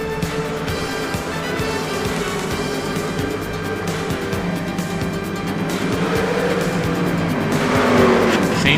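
Race cars in a sim racing game on the Five Flags Speedway oval during a crash replay, engines roaring steadily with tire squeal and skidding that swells toward the end, loud and continuous.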